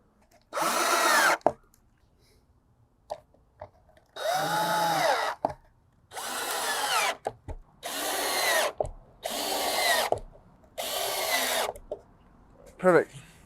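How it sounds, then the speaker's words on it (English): A power driver sinks size B screws into the shingles of a KidKraft Lakeside Bungalow wooden playhouse in six separate bursts, each whirring up and stopping, with short quiet gaps between and faint voices now and then. "Now we're gonna finish off by putting the size B screws up on these shingles here to finish it off."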